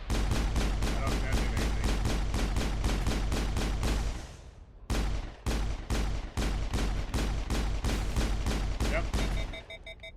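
Rapid bursts of gunfire roar in the video game Mass Effect, with a shotgun firing at a turret: dense automatic volleys, a brief pause, then more choppy shots, while someone speaks briefly over the noise.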